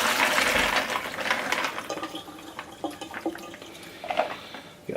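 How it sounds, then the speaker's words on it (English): Cooked beans for chilli pour through a colander with a splashy rush of draining water that is loudest at the start, then thins to scattered trickles and drips. "Just pour them through the colander."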